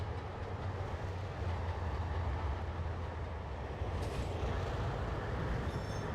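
A train rumbles past in the Trainz Simulator 2 game, a continuous low clattering roll of wheels and cars with faint higher squeals, steady and unbroken throughout.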